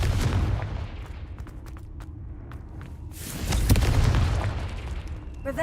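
A Confringo explosive spell blast in Hogwarts Legacy, a loud low booming burst that swells after a stretch of rumbling game ambience, with a sharp crack at its peak and a broad roar that fades slowly.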